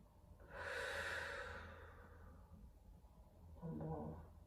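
Slow, deep breathing during a judo stretching session: one long drawn breath out, close and soft, followed a few seconds later by the start of another breath.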